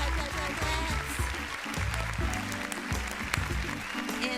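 Applause on a late-evening radio show, a steady dense patter laid over a music bed with deep bass notes, continuous and fairly even for the whole stretch with no clear voices.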